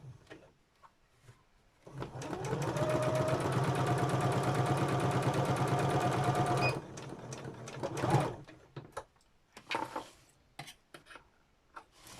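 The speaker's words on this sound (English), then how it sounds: "Take your foot off the sewing machine pedal," A sewing machine stitching a canvas pouch runs steadily for about five seconds with a fast mechanical whir, then stops, followed by a few faint clicks and handling sounds.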